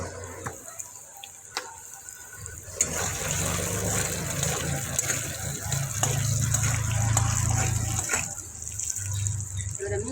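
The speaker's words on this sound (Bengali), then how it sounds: "এবার আমি জল দিয়ে দেবো।" Water gushes steadily into a pan of sautéed vegetables and spices for a fish curry, a loud continuous pour lasting several seconds, with quieter kitchen clatter and faint ticks before and after.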